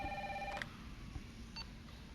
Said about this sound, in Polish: odbierzmy ten telefon, bo nie da nam spokoju